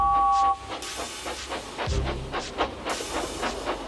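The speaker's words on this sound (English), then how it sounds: "the snorting engines forced the freight cars up the hill" Steam engines haul freight cars uphill, with rhythmic chuffing bursts, hissing steam and a low rumbling clank as the train labors, after a brief whistle at the start.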